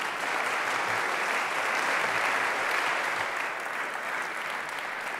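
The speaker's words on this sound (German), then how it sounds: "Ein herzlicher Applaus an Sie alle drei." Steady, dense audience applause fills the hall throughout, sustained at an even level, honoring three panelists at a German digital summit on online public-administration services.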